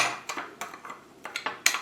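Utensils clink and scrape against a bowl in quick, irregular strokes as spices are mixed into fish close by.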